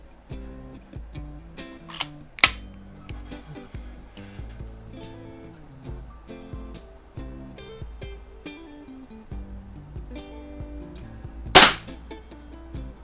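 A Predom Lucznik .177 break-barrel pellet pistol fires a pellet, giving a sharp, loud crack near the end, with a smaller earlier snap against low background rumble.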